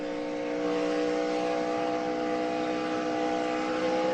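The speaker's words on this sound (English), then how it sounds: "When that motor revs up like that, Phil, that's a lonely feeling." An onboard race car engine at the 2011 Lucas Oil 200 drones in a steady, loud, high-revving whine, holding a constant pitch with no break for the whole stretch.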